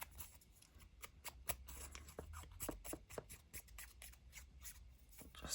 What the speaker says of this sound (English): I'm going to grab my scissors